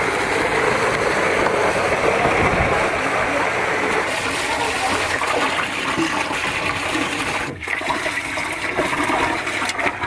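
Water gushing from a pipe being lowered into a well, a steady broadband rush that fills the whole stretch with a brief dip near the end, with no talk over it.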